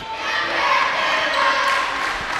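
A small group of girls roars and shouts at a high school girls' basketball game between Sulphur Springs and Lindale, a loud, full-throated wash of crowd noise that holds steady for a couple of seconds.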